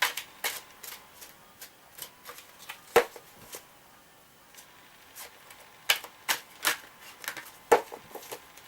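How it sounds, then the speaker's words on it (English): Oracle cards from a Romance Angels deck are shuffled by hand, with soft riffling flicks and taps that arrive in irregular bursts, close and fairly quiet, with no voice. "So I'm just going to shuffle the cards on screen."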